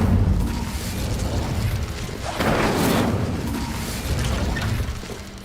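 The Incendio fire spell in Hogwarts Legacy goes off with a whooshing, crackling flare building to a bright burst around the middle, layered over rumbling game ambience and mechanical clatter.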